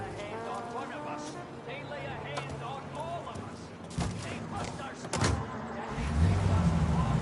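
A car driving in the Mafia Definitive Edition video game, the engine humming steadily under conversation between characters, with a few sharp knocks and a louder rumble near the end.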